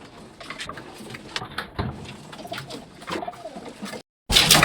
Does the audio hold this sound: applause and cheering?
no